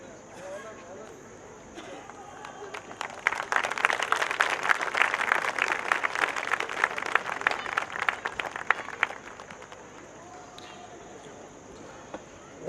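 Audience applause at a Kavi Sammelan poetry event for a portrait unveiling: a crowd breaks into steady clapping for about six seconds, which then fades back to a quiet room. A voice is heard speaking before and after.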